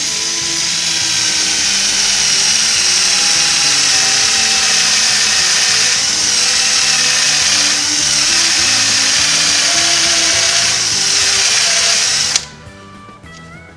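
A power drill with a 1/4 inch bit whines loudly and steadily as it bores into the frame of a 1940 Ford truck, running for about twelve seconds before cutting off abruptly into a quiet low hum.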